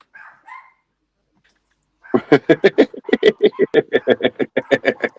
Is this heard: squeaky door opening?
no